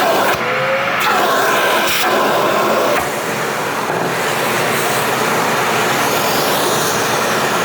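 DeWalt Stealth Sonic shop vacuum running with accessories attached, a loud, continuous broadband whoosh of rushing air that holds steady throughout, with a few brief tonal shifts near the start and no talking.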